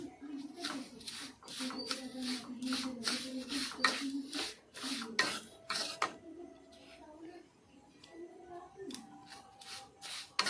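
Semolina is stirred together with powdered milk in a bowl: repeated dry rubbing and scraping strokes in an uneven rhythm, close by, with a soft voice faintly present at times.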